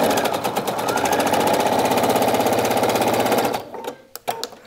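A sewing machine stitches along a fabric seam in a steady, fast, loud mechanical chatter for several seconds, then stops abruptly and is followed by a few faint clicks and handling sounds.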